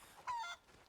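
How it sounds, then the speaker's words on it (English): A chicken in the game Rise of the Tomb Raider lets out a single short, faint squawk, quiet and isolated against near silence. "Can you give me credit for the chicken I threw in there?"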